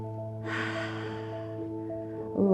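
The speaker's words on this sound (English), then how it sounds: "One more round of breath here." A single deep breath drawn in during a yoga class, a soft airy inhale over a low steady hum of background music, ending in a brief rustle.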